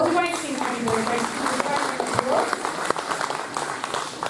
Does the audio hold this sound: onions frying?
no